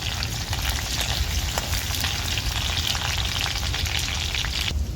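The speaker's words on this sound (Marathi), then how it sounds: "इथं मी दहा बारा लसणाच्या पाकळ्या ठेचून घेतल्यात त्या मी घालून घेते तेलात" Ten or twelve crushed garlic cloves frying in hot oil for tomato saar, a loud, dense, continuous sizzle and crackle held close throughout with no voices.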